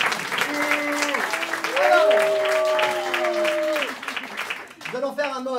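Audience applause for the improvised film Tragedy Stonehenge at an improv festival in Paris: a broad clapping wash under voices and sustained tones, fading briefly before lively vocal sounds rise at the end.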